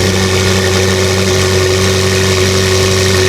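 A loud, steady supercar engine drone with a deep, throaty exhaust hum, holding a constant idle-like tone throughout without revving.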